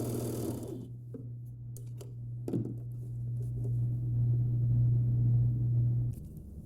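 An overlocker sewing machine stitching a fabric seam on girls' shorts, a steady low motor hum running for several seconds after a few clunks and handling taps, then stopping.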